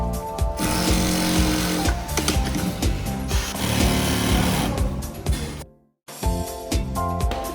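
Industrial sewing machine in a backpack factory stitching logo webbing and a buckle onto a shoulder strap, loud dense rapid stitching bursts that run almost continuously, cut off by one short pause near the end.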